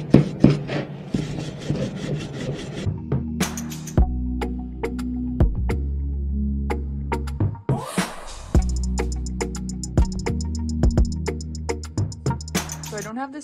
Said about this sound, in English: I'm just wiping this on with a wax brush, just buffing it in through the wood and wiping it back